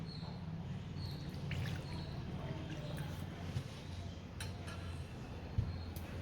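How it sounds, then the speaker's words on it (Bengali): Hot water trickles from a spoon or cup into a small dish while gold jewellery is being cleaned at home, a soft, faint, steady pour with a few light clinks and drips, no talk. "তো এরপরে দেখো আমি একটু গরম জল নিয়ে নেব।"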